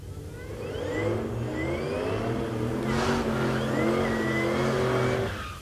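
Drag racing cars roar down the strip at Tulsa Raceway Park, one loud sustained engine wail rising in pitch as it accelerates, with a second car's revving blending in, no commentary over it.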